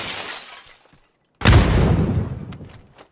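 In PUBG, a grenade goes off with a sudden loud, close blast after a short lull, then a rumbling roar that fades over about a second and a half.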